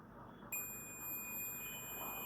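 A multimeter's continuity tester starts a sustained high-pitched beep partway through while probing a low-value resistor on a mobile repair bench, the tone holding steady over faint background hiss.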